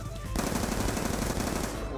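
Sustained machine gun fire in a video game, heard as a dense, loud, continuous rattle that starts abruptly and keeps going.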